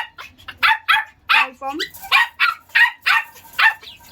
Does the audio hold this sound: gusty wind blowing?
no